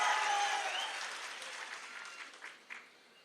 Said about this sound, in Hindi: चैतर भाई के लिए एक बार जोरदार आंदोलन की आवाज को जोरदार तालियों से एक बार स्वागत कर दो